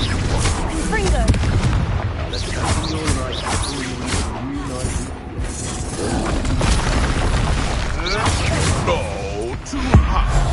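A Confringo fire-blast spell explodes in Hogwarts Legacy during a fight with Ashwinders, heavy booming blasts and crackle packed tightly through the scene with a louder burst near the end, mixed with game sounds.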